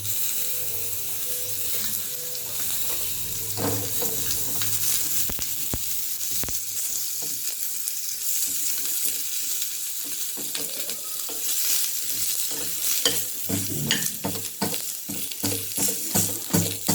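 Onions frying and being stirred in a pan while cooking a chicken, cashew and almond dish, giving a steady close sizzle with scraping stir sounds and occasional clinks, without speech.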